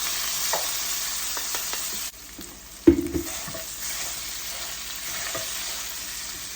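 Potatoes hit a pan of hot garlic and sizzle, with a sharp burst as they go in followed by steady frying crackle and occasional stirring scrapes, all close and moderately quiet.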